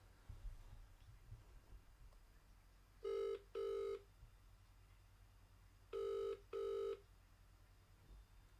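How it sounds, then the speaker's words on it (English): Phone ringback tone on an outgoing call during a live football match watchalong, two paired double-burst rings, moderately loud over a low background hum. "You better answer the phone."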